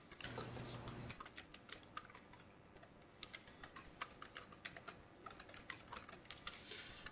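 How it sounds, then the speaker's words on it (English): Keys clatter on a computer keyboard as someone types, starting with sparse clicks and building into irregular bursts of quick taps, close and fairly quiet, with a brief low hum at the start. "Now let's just retype it."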